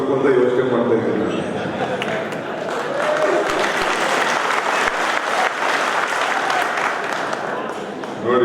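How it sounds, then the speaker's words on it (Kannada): Loud, sustained applause from a large crowd at a minority political convention in Belgaum, dense and continuous clapping filling the hall for several seconds with scattered shouts. "ಜೋರಾಗಿ ಚಪ್ಪಾಳೆ ಹೊಡಿತಾ ಇದ್ದಾರೆ"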